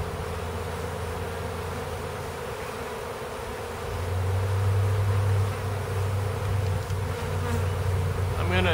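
A swarm of honey bees hums continuously around a hive box, a dense close buzzing that swells louder and fuller partway through and holds steady to the end.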